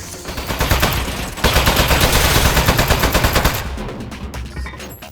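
Turret gunfire in the video game Aperture Desk Job: loud, rapid automatic bursts for several seconds, then a sharp cutoff into scattered fading shots and clatter.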